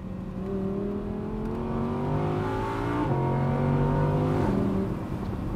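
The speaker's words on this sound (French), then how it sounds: "ce qui est vraiment génial avec ce moteur atmosphérique, c'est que c'est puissant, ça va très vite" A high-revving naturally aspirated Audi R8 V10 engine climbs through the gears, its tone rising steadily with short dips at each shift, loud and close.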